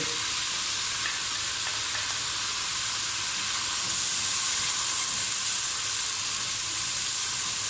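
Ginger garlic paste sizzles and fries in a hot pan with a continuous crackling hiss that swells slightly louder midway, with no talking.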